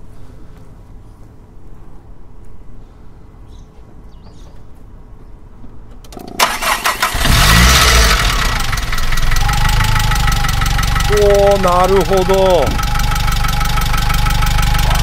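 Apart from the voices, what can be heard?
turbocharged car engine starting and idling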